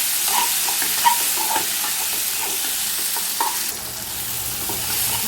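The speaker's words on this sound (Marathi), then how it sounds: "त्यात शिमला आणि टोमॅटो टाकूया आपण। ते पण चांगले लाल असे परतून घेऊ चांगले।" Golden onion, capsicum and tomato sautéing in a pan while being stirred, a steady close sizzle with light scraping stir strokes throughout, no voices.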